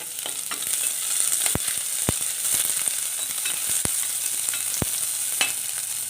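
Chopped small onion hits hot oil with garlic already in the pan, giving a steady bright sizzle with a few sharp crackles and spoon taps scattered through, close and continuous with no voices.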